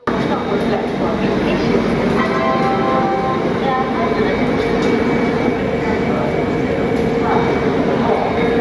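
Padatik Express stands at platform 4 of Malda Town station. A loud, steady rail rumble and mechanical drone fill the whole stretch, with faint voices mixed in.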